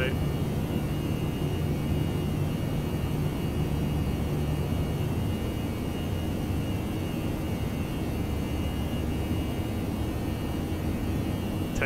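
Engines of a Finnair A319 leaving Oulu, Finland, in X-Plane 11 give a steady, loud, broadband jet roar holding evenly throughout, with a voice talking over it.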